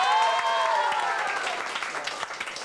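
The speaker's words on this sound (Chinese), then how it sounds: "掌声鼓励一下" A studio audience at a variety show claps and cheers in a full burst of applause that thins out over a few seconds, close and loud, with no talk.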